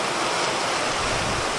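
A brief burst of heavy rain falling in big drops makes a steady, broad wash of noise, close and fairly loud, with no talking.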